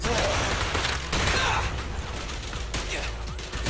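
Dense, continuous gunfire fills a fight in Zenless Zone Zero, loud and close, with overlapping bursts and other combat noise throughout.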